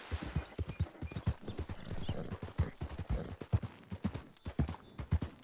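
Horse hooves clip-clop at a steady walking pace in Red Dead Redemption 2, a close, even run of soft thuds that carries through the whole stretch with no talk over it.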